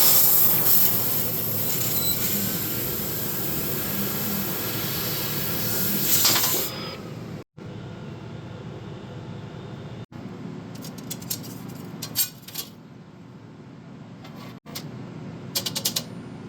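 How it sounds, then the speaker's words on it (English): A steady, dense mechanical hiss and whir of a GWeike MCORE laser cutter cutting metal runs for several seconds, then cuts off abruptly, leaving quieter clicks and short bursts of machine noise. "I clicked the shutter button to arm the laser and then start cutting"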